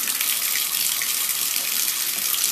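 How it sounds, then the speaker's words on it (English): Steady broadband rush of water pouring from a bathtub tap, continuous and fairly close, with no pauses or voices. "turn on the water,"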